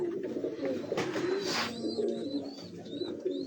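Young pure Kasuri pigeons at a rooftop loft in Faisalabad, soft low cooing that runs steadily throughout with a few faint chirps above it.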